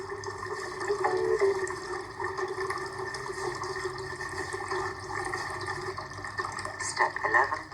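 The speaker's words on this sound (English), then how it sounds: "Rinse hands." Tap water runs steadily as hands are rinsed under a faucet, a close, continuous stream with slight splashing changes.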